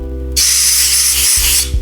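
Air gun blowing compressed air into a red fitting on a powder coating system pump, a sudden loud steady hiss lasting over a second, close up over a low mechanical hum.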